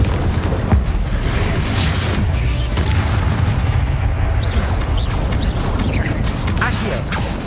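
Confringo fire spells burst again and again in the Hogwarts Legacy video game, a dense, continuous barrage of loud booms and crackling blasts with no pause throughout.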